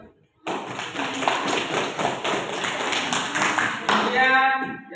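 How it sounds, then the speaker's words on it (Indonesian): A classroom of students applauds together in a dense burst of hand clapping lasting several seconds, and a voice starts speaking as it ends. "Ya, tepuk tangan."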